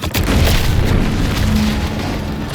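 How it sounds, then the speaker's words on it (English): Explosion in the video game The Outer Worlds 2, a loud deep boom at the start rolling into a sustained heavy rumble that slowly fades, with no talking. "What's that? An explosion?"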